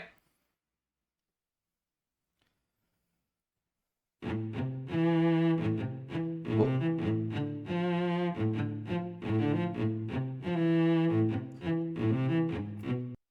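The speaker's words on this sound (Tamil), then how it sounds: "இந்த சவுண்ட் இருக்குல்ல, இது வியோலான்னு ஒரு இன்ஸ்ட்ருமெண்ட்டு" After about four seconds of silence, a bowed viola melody begins, sustained rich notes with rhythmic accompaniment playing steadily to the end. Intro of a song from the film Retro.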